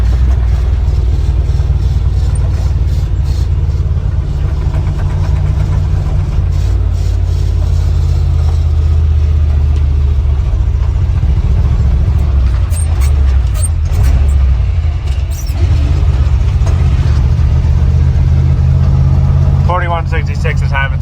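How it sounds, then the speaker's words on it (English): An International Harvester Loadstar crew cab truck engine rumbles steadily and loudly while slowing down, its revs dipping and rising as the driver double clutches, with a voice speaking over it. "Double clutching."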